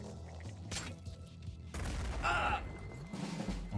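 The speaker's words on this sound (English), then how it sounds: "And here comes a grenade." Grenade blast in the sci-fi tactics video game Terror From The Void: a sharp burst of booming noise punches in midway, amid scattered thumping shots, with no talk.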